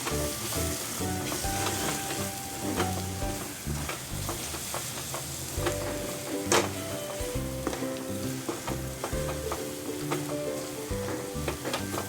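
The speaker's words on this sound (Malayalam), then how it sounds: "ബാക്കി എല്ലാ പൊടികളും ഞാനിപ്പോൾ ചേർക്കുന്നുണ്ട്. നല്ലോണം മൂപ്പിക്കാം നമുക്ക്." Ground spice powders fry for a chicken curry in a pan, giving a steady close sizzle with stirring scrapes throughout and no talk.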